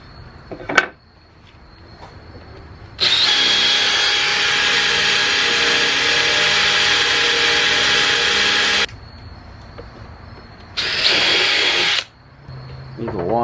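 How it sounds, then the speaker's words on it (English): A power drill bores a hole for a party decoration project, whirring loudly and steadily for several seconds, then pausing before a second shorter burst of drilling. "you can remove this out of the way and finish drilling"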